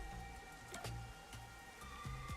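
Rain falls in the video game Master Detective Archives: Rain Code, a quiet steady patter under soft low musical tones.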